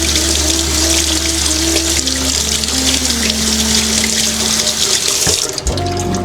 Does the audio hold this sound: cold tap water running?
yes